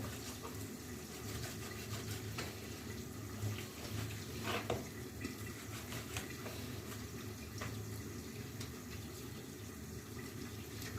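Steady running tap water splashes over chopped food being washed, with occasional clinks of dishes or produce being handled under the stream.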